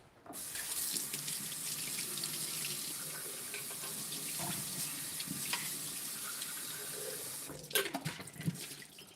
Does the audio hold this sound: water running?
yes